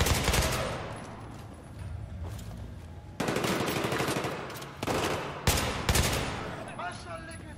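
Battlefield 3 gunfire crackles in loud automatic bursts with short gaps between, sharp and close, over a busy in-game battle din.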